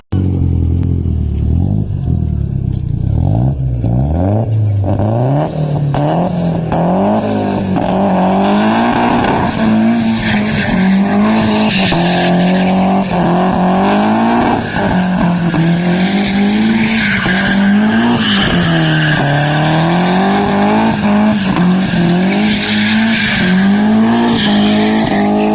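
A Nissan SR240 drives hard with its engine revving up and down in a wavering whine, tires squealing and skidding in repeated bursts, loud and close throughout with no voices.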